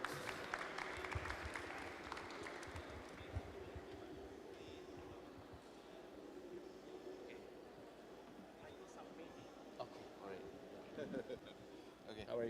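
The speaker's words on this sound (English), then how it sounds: "Let's give applause to Professor Tokuro." Faint applause at an academic lecture for a professor, a soft scattered clapping early on that dwindles into quiet room noise with murmured talk.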